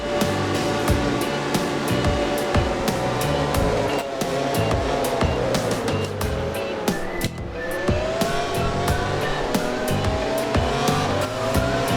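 Motorcycle racing engines from MotoGP 08 on the PS2 whine and rev continuously, with repeated sharp tire skids and squeals cutting through, loud throughout with no speech.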